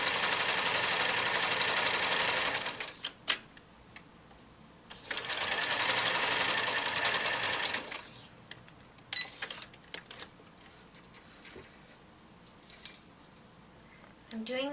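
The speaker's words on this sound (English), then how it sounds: "I'm trying to get my stitching as close as possible to the picot edge," Sewing machine stitching in black thread close to a scalloped picot edge, two steady runs of fast rhythmic needle whirring separated by brief pauses and small clicks and handling noises.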